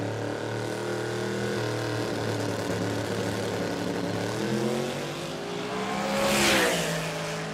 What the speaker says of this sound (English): 532 cubic inches, twin turbo V-block Chev.